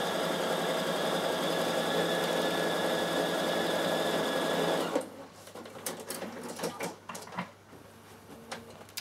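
A Bernina sewing machine stitches a row across a quilt strip, a steady close mechanical whirr with a fast buzzing rhythm for about five seconds, then it stops and a few soft clicks and handling noises follow.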